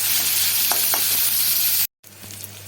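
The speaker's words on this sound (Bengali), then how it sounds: "পেঁয়াজগুলো মোটামুটি ভাজা হয়ে গেছে, পেঁয়াজ রসুন।" Onion and garlic fry in a hot pan with a steady, loud sizzle and a few light stirring clinks, broken by a short silent cut before the sizzling resumes, while cooking Bengali banana-flower paste.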